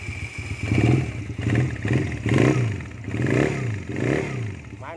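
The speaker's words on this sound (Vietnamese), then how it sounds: "Rồi đổ máy lên cho anh em nghe luôn ha." A Honda Rebel 170 motorcycle engine runs close by, its mid-pitched exhaust note swelling and easing in repeated gentle revs over a steady idle, with no talk.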